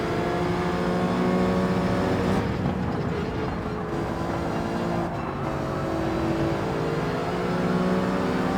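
Race car engines in Gran Turismo 7 drone and rev continuously at close range, with shifting pitch through the corners of a BTCC league race.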